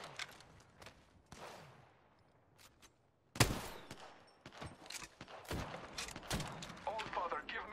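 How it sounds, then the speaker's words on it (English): Gunfire in the video game Apex Legends: scattered sharp shots at first, then a loud burst and a stretch of rapid cracking fire, alongside thuds and movement. "I'm taking fire."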